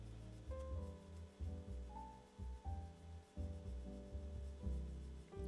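Soft rubbing of an adhesive panel onto a paper card, a close, quiet run of brushing strokes in short bursts over a faint background hum, no speech.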